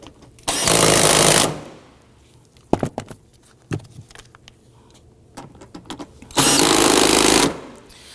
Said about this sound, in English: We're going to go ahead and tighten them right down.